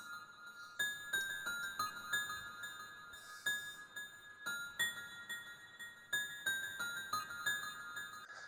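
Quiet keyboard melody of bright, repeated notes played over a rhythmic beat loop, with steady percussive pulses marking each bar; no one speaks.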